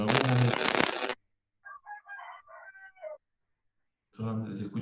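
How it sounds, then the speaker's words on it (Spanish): A rooster crows several times, a short mid-range call standing alone between loud stretches of people talking before and after it. "solamente se escucha bonito el gallo?"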